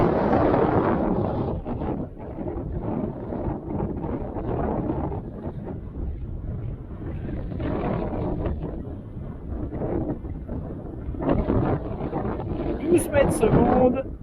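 Heavy wind buffets the microphone with low rumbling gusts throughout, rising and falling, with faint sounds beneath.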